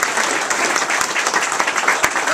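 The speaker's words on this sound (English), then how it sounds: "So I think that deserves a round of applause." A round of applause from an audience at an animal shelter gathering, dense clapping held steady and fairly loud throughout, with sharper individual claps standing out.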